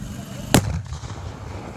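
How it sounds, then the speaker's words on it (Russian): One sharp, loud cannon blast at a reenactment of the Battle of Friedland, a sudden close boom that fades into a brief rumble over outdoor background noise. "Французская артиллерия все время пытается накрыть расположение наших сил, все время меняет позицию, приближаясь к ним."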